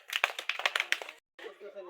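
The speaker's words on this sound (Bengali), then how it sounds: "সবাই হাততালি দাও জোরে জোরে।" Children clap at a school prize-giving for a drawing competition: a quick run of sharp, fairly close claps lasting about a second, a brief pause, then softer rustling.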